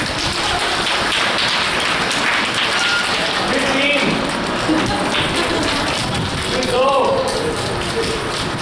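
A seminar group taps fingers together to imitate rain, producing a dense, even patter that builds steadily, with a voice calling out over the tapping.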